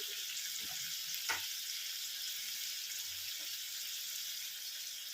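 Fish masala cooks in a pan with a soft, steady sizzle, broken by a couple of faint stirring knocks.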